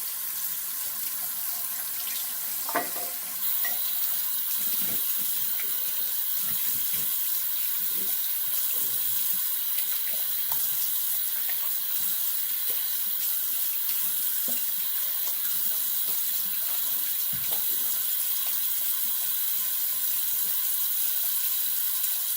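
Steady stream of water running from a bathroom tap while rinsing off after a shave, a constant hiss with occasional faint splashes and clinks underneath, close and continuous without speech.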